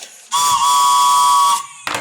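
A loud, sustained train whistle blast at New Year's Eve fireworks in Sydney, lasting about a second, steady in pitch with a breathy hiss, followed by a brief second burst.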